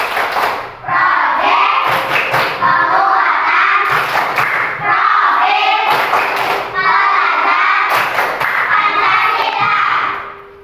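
Students in a classroom perform a rhythmic clapping chant together, loud unison voices and patterned claps in four repeating bursts separated by brief pauses, close by and lively.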